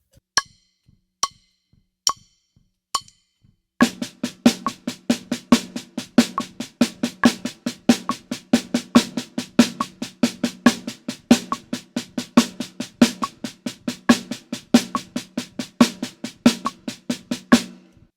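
A snare drum rudiment played with sticks in marching band style: a few slow separate strokes, then a fast, even, continuous stream of crisp close hits running steadily to the end.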